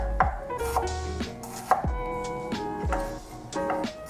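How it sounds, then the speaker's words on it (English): Knife chopping onions and garlic on a cutting board, a series of close, loud, uneven chops with a hard wooden knock on each stroke, heard alone without speech. "Once you've chopped up your onions and garlic"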